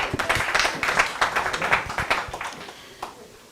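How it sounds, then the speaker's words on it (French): An audience at a Guinean diaspora community gathering in the United States claps in a lively burst of many hands, near and fairly loud, thinning and fading toward the end. "Applaudissez Doyen Amadou Sara."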